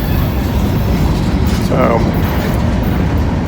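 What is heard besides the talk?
long freight train passing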